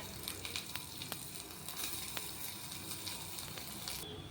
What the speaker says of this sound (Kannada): ಕೊತ್ತಂಬರಿ, ಕರಿಬೇವು, ಉಳ್ಳಾಗಡ್ಡಿ ಹಾಕಿ, ಈರುಳ್ಳಿ ಹಾಕಿ ಒಂದು ಸ್ವಲ್ಪ ತಾಳಿಸ್ಕೊಳ್ಳೋಣ